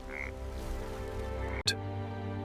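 Frogs croak in a dense, continuous chorus, moderately loud and layered, broken by one sharp sweeping burst near the end, with no voices.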